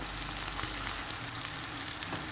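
Onions, peppers and garlic frying in a pan give a steady, close hiss of sizzling fat, with a few faint pops and small stirring sounds and no talking.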